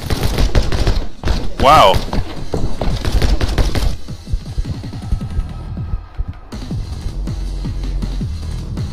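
Rapid bursts of video game gunfire from My Friend Pedro crackle through the first few seconds under an excited voice, then thinner shots and thuds continue beneath the music and effects.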